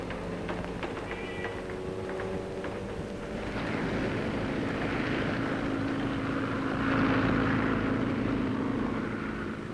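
Propeller airplane droning overhead, a steady engine hum that grows louder over several seconds, with a brief higher cry near the start.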